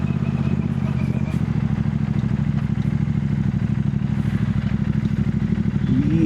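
A Goan Classic 350 motorcycle rides along with a steady low engine thrum and road rumble, and a voice talks over it throughout.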